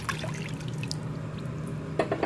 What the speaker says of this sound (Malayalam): അതേ അളവിൽ തന്നെ വെള്ളം ചേർക്കാം.